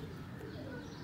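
Pigeons kept on a small rooftop in Sialkot give a brief, soft, low coo that sounds faint and somewhat distant, with no talking.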